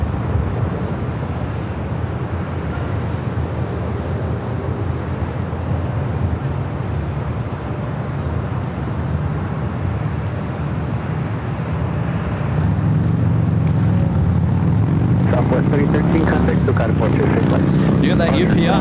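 A Southwest Airlines Boeing 737 MAX 8 jet arrives at an airport, a low engine rumble that swells louder partway through as it draws nearer, with brief crackling noise at the end.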